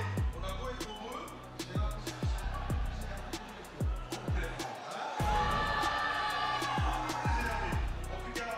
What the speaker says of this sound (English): Listen to the crowd.